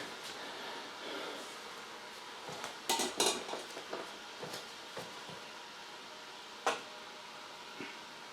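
Metal pots and a metal screen strainer clank and rattle as they are handled in a home kitchen while plums are processed, with a cluster of sharp knocks mid-clip and a few scattered clinks before and after, fairly quiet.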